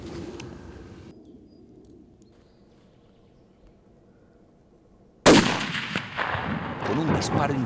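A single sharp, loud rifle shot from a roe deer hunt in open country cracks out after several seconds of quiet outdoor ambience, followed by a long rolling echo and lingering rumble.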